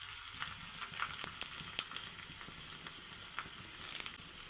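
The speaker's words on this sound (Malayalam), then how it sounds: "നമുക്ക് വറ്റൽമുളക് ഇട്ട് കൊടുക്കാം." Dried red chillies drop into hot oil with browned onion for a raw mango pachadi, a faint, steady crackling sizzle with scattered small pops.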